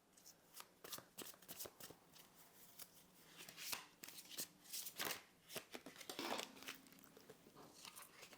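A tarot or oracle deck is shuffled for a new moon card reading: close, crisp riffles and rapid card slaps in repeated bursts, growing busier midway, with no talking.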